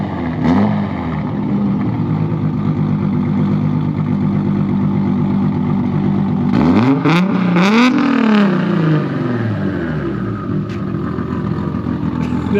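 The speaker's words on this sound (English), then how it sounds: "Dean's gonna drive his Supra and we'll get some sound clips of his." A Toyota Supra with an HKS exhaust drives past and revs, a loud, steady engine drone that swells as it nears and fades as it pulls away.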